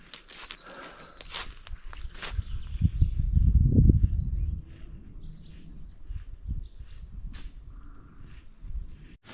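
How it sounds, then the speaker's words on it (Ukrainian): Small birds chirp and tweet faintly in a spring forest, with scattered calls over loud, close footsteps crunching through the undergrowth. "Птахи співають."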